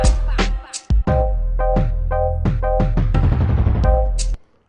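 A punchy jungle drum loop with deep kicks, crisp snares and pitched percussion hits in a quick syncopated pattern, playing alone and cutting off at the end.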